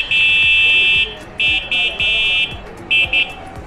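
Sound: electric bicycle horn

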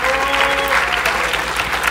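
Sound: audience applause

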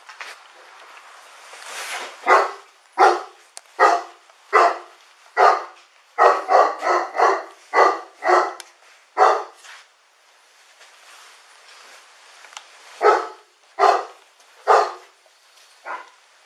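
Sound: dog barking inside house during police search

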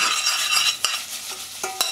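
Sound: tossing glazed carrots with fennel greens in a pan

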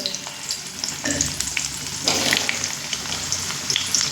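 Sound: potato and pumpkin frying in oil on high flame

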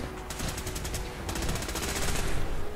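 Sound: machine gun fire in the video game Fallout 4

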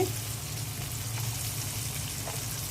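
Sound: ginger garlic paste and spices frying in pan

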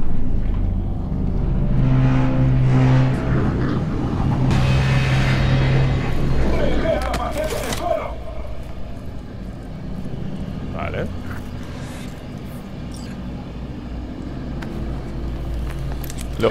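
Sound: car driving in the video game Cyberpunk 2077

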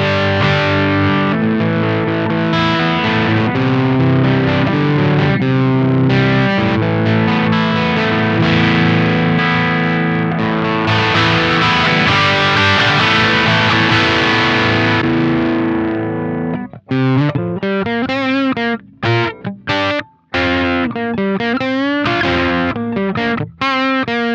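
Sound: guitar through a Dunlop MXR Mini Fuzz Face pedal

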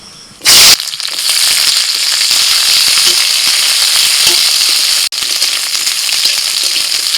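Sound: capsicum and onion frying in mustard oil in a kadai

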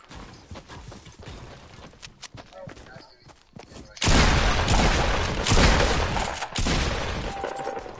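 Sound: shotgun firing in a video game

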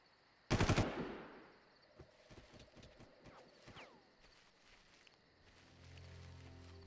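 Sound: gunfire in the video game Far Cry

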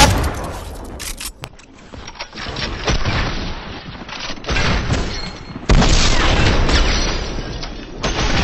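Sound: gunshots from the video game Fortnite Zone Wars

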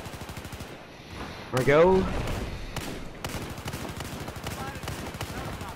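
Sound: DMR rifle gunfire in the Battlefield 4 video game

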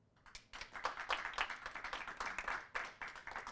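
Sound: people clapping

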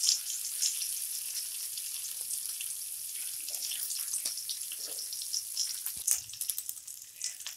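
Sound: tempering of curry leaves and ginger sizzling in hot oil

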